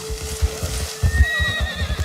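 A horse in the video game Red Dead Redemption 2 gives a clear whinny, with hooves clip-clopping in an uneven rhythm beneath it.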